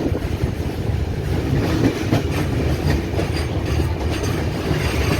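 The Shirdi–Howrah Superfast Express, train 22893, runs out of Rourkela Junction in Odisha with a loud, continuous rumble and rhythmic wheel clatter from close on board, with no talking.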